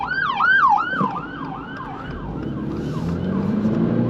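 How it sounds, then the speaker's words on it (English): A loud wailing ambulance siren heading to a traffic collision sweeps up and down repeatedly, close by, over the low rumble of road traffic. "the ambulance is going to go around me for that poor traffic collision"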